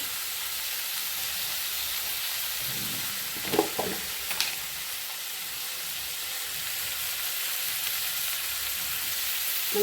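Tomato with a little turmeric and curry leaves frying in a pan, a soft, steady sizzle with a few brief clinks and stirs partway through.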